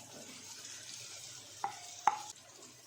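Fried okra and garlic get stirred in a pan over a low flame. Quiet sizzling runs throughout, and a couple of sharp spoon clinks against the pan come near the end.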